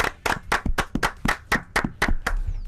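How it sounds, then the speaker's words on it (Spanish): Distinct, rhythmic claps ring out at an evening show before a comedy act, about ten sharp hand-claps in a steady beat, close and clear, almost like a single clapper keeping time. "¡Fuerte el aplauso!"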